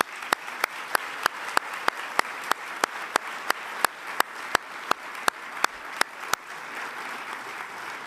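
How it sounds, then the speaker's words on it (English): Evenly spaced sharp claps ring out over a soft audience applause at a military promotion ceremony, about twenty crisp beats in a steady rhythm before the clapping fades away. "we recognize you now with a rousing round of applause."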